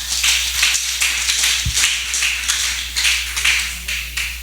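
Congregation clapping hands in praise of God during a church service, a steady run of dense, brisk claps at moderate loudness across the whole stretch, with no talking.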